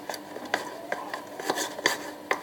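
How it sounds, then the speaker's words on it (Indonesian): Milky slime mixture with slime egg added is stirred until it clumps, giving a run of irregular close scraping and clinking strokes against a container, fairly quiet and steady. "Lalu aduk sampai ia menggumpal."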